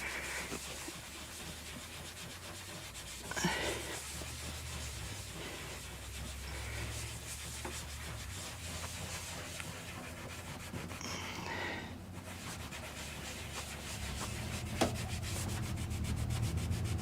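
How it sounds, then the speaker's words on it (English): Rubbing compound worked by hand with an old shop towel on a 1967-72 Ford truck dash pad: continuous close, faint rubbing swishes with steady rhythm and a couple of brief bumps. "I just take a little bit of this rubbing compound. And I'm just using an old shop towel right now."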